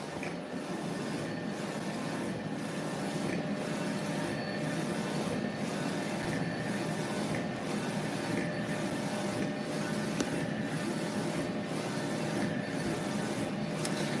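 A Uninet UVDTF 3000 UV DTF printer prints a transfer, giving a steady mechanical whir and hum with regular rhythmic pulses roughly every second as the print head sweeps, close and continuous with no voices.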